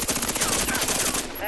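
A rapid burst of automatic gunfire from a weapon in a video game, dense and continuous for just over a second, loud and close with game sounds underneath.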